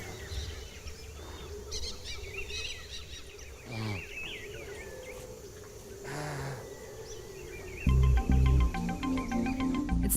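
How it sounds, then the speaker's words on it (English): Several birds call and whistle in a busy Amazon jungle chorus, with chirps and warbling notes over a low background rumble. "the birds are just everywhere"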